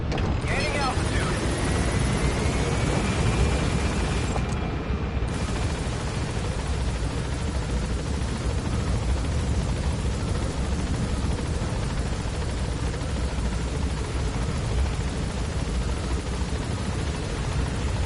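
A helicopter in the video game Metal Gear Solid 5: The Phantom Pain gains altitude, its rotor and engine a loud, steady drone that fills the whole stretch without pause.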